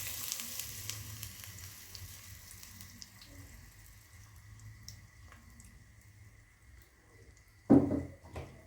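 Onion frying in oil gives a steady, close sizzle through the whole stretch, with a louder burst of crackle near the end as more oil goes into the pan.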